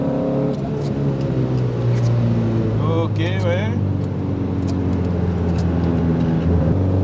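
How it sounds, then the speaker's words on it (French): A 1970s Alpine A110 1600 S sports car's engine hums steadily while driving, a continuous loud drone that swells slightly, with people talking over it in the cabin. "On fait un petit peu sonner le moteur."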